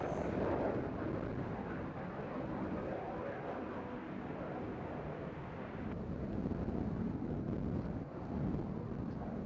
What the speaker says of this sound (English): Sounds like a fighter jet.